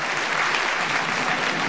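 A stand-up comedy audience applauds with dense, steady clapping throughout, loud and close, with no break in the sound.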